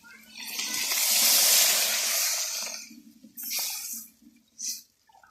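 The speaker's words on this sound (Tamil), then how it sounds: "இப்போ புளி கரைச்சின தண்ணி, மிளகாத்தூள், மல்லித்தூள், தேங்காய், தக்காளி போட்டு கரைச்சினதை ஊற்றணும்" Tamarind water mixed with chilli powder, coriander powder, coconut and tomato poured into a pan for fish curry: a long, close splashing pour, then two shorter gushes.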